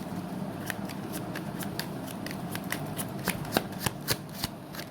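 Tarot cards are shuffled close by in a quiet room, a steady papery riffle broken by sharp snapping flicks that grow louder and more spaced toward the end, with no voices.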